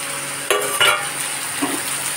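Chopped green chili and tomato drop into a pan of frying pangas fish curry, bringing a steady loud sizzle of oil with a couple of sharp bursts and light utensil clinks, no talking.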